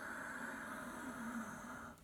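Steady, raspy throat breathing drawn in through the nose with the mouth shut, a continuous soft hiss heard close up for about two seconds with no talking.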